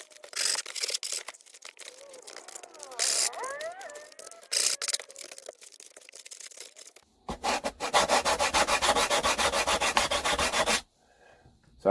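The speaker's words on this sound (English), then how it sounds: "a little bit of sanding here on the leading edge" Sandpaper worked over the wooden leading edge of an RC plane wing, starting with short scratchy rubs and building to a long, loud, rapid back-and-forth sanding run, close up, before stopping.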